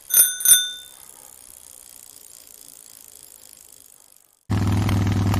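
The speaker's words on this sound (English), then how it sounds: "bicycle" Bicycle bell rung twice in quick succession, bright and close, followed by a fading ratcheting whir of turning wheels, then an abrupt loud hum.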